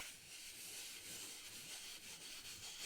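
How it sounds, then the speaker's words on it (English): Steady, soft, close-up rubbing on an object in a quiet setting, a continuous airy hiss-like friction with gentle uneven strokes and no voices. "I'm gonna rub it first"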